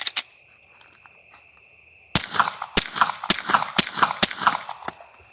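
Suppressed 9mm pistol shots fired through a Mojave 9 suppressor at an outdoor range: one early shot, a pause, then a brisk string of about seven sharp, muffled cracks at close range, with no talking.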